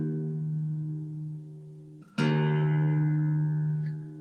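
Electric guitar being tuned: a sustained harmonic-rich note rings, cuts off briefly, then a fresh string pluck with bright attack decays slowly, fairly loud and alone.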